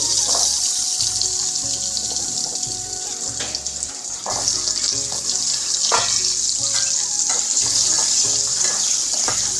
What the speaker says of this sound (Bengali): এই তেলের ভিতরেই এখন আবার আলুগুলো ছেড়ে দিব, আলুগুলো ফ্রাই করে নিব।